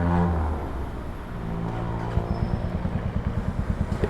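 A Royal Enfield Classic 350 fitted with a sport exhaust starts up after a short crank, then settles into a loud, close, lumpy single-cylinder idle with rapid rhythmic exhaust pulses.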